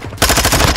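A rapid, loud burst of automatic fire from a Vaznev 9K in Call of Duty: Modern Warfare II, close and punchy with tightly spaced shots after a brief quieter lead-in.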